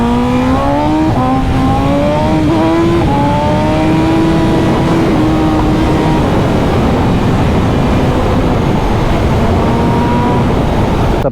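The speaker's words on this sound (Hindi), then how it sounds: "सबके एग्जॉस्ट सुनाते हैं।" A loud superbike engine revs up, its pitch rising and holding, then settles into a steady droning roar close by, with no talking.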